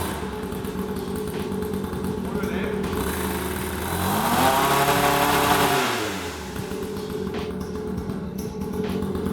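A pocket quad's small engine revs with the rear lifted and the wheel spinning freely, buzzing steadily then climbing to a higher, louder whine for a couple of seconds before dropping back to a steady drone, with talking over it.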